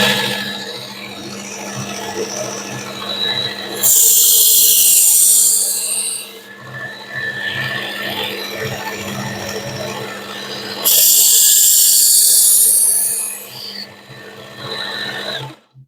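A Work Sharp Ken Onion MKL2 electric knife sharpener runs in two loud bursts of about three seconds each, with a quieter steady motor hum between them.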